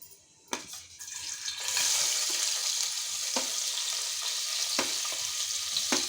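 Chopped onions hit hot oil with popped mustard seeds and cumin for Khandeshi thooli, bursting into a loud, steady close-up sizzle after a brief quiet start, with a few sharp utensil clicks against the pan.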